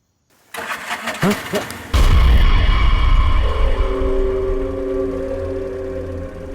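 An auto rickshaw engine in a film scene cranks with a few rough, stuttering turns, then catches and roars loudly. It settles into a steady, buzzing idle with a droning hum, and no one speaks over it.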